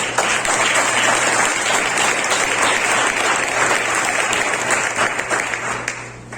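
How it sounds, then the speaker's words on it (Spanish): Loud, dense clapping fills a church as the congregation applauds the Lord during a sermon, sustained evenly and then thinning slightly toward the close. "Bríndele un fuerte aplauso al Señor"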